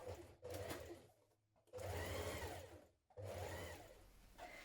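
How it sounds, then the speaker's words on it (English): A sewing machine stitching coat lining for a long coat, running in three close bursts with short pauses between, each a rapid mechanical whir heard up close with no talking. "Pin your side front lining to your front facing and stitch in place."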